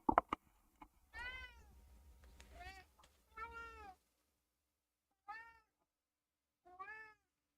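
A pet cat meows loudly and insistently indoors, giving about five drawn-out, rising-and-falling cries. The first ones come close together after a few sharp knocks, and the last two are spaced apart by short silences.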